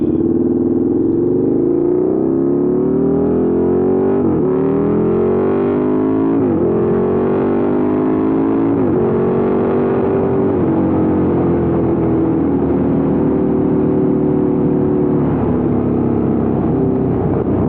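A 2014 first-generation KTM 1290 Super Duke R motorcycle ridden around town, its loud engine note rising and falling steadily through gear changes and throttle shifts, with wind rush throughout.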